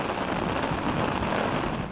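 Steady rain falls across a flooded South Jersey region during several straight days of torrential downpours, a continuous dense hiss of drops hitting surfaces with no talk.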